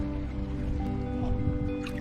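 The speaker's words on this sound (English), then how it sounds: "there's fresh water running and there's a couple of spots with sand." Fresh water trickling and dripping in a remote Australian river, a steady close burble with small splashes and no voices.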